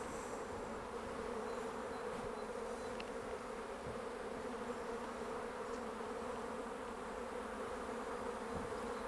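A healthy honey bee colony in a hive hums with a steady, dense, continuous drone, close and even throughout, with no voices over it.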